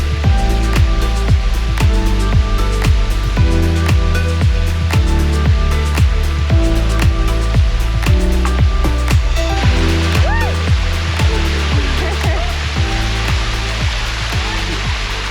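Constant rushing roar of a waterfall near Chiang Mai, Thailand, loud and close, with a regular series of soft thumps like footsteps running through it.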